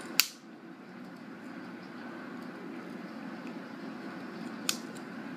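Small scissors on a Swiss Army knife being tested for sharpness make two crisp snips, one at the start and one near the end, over a quiet steady hum.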